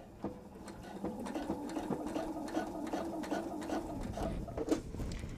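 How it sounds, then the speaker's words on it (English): A sewing machine runs a top stitch along a travel tote, a rapid steady whirring hum with ticking needle strokes, close and moderately loud, starting after a brief pause with no talking. "I am going to secure it at the beginning and the end of my top stitch"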